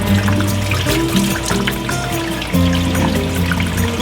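Water running out of a boat's bilge tank during flushing, a close, steady stream of trickling and splashing that continues throughout.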